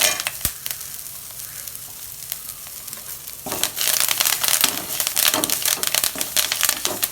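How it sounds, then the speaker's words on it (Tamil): Garlic, dried red chillies and vadhanarayanan greens sauté in a pan, starting with a soft sizzle and light clicks, then swelling into louder frying with scraping stirs and crackles. "வரமிளகாய் ஒரு நாள் போட்டுக்கலாம் போட்டு அதையும் நல்லா வதக்கிக்கலாம்"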